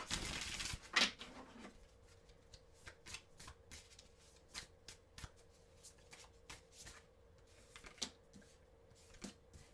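Tarot cards shuffled by hand in a quiet room, a burst of riffling followed by scattered soft taps and flicks of the deck at irregular intervals, close and faint, with no talking.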